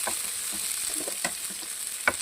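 Onions and green chillies frying in a pan, a steady close sizzle with a few soft stirring scrapes and clicks, no voices.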